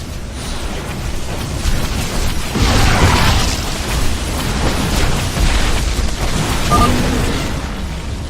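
Nydus worms destroyed in StarCraft 2: a sustained, rumbling wash of explosion and crumbling battle noise lasting several seconds, dense and fairly loud with no clear individual blasts standing apart.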